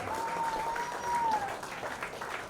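Audience clapping at an award ceremony during a spring festival event, steady applause from a crowd with a sustained tonal whistle or instrument note running through the first half.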